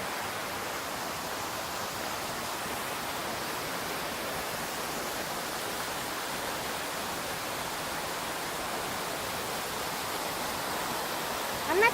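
A mountain stream near Zirl, Austria rushes toward the Inn river, a steady, dense, even whoosh of flowing water that continues without break, close and fairly loud.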